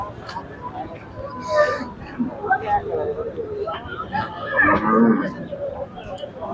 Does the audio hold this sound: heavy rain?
no